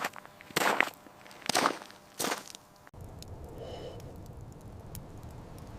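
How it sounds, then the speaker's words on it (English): Three heavy boots crunching footsteps on outdoor gravel, spaced about a second apart and fairly close, then they stop and only a low background hiss remains. "It sounded like heavy boots crunching on the gravel outside."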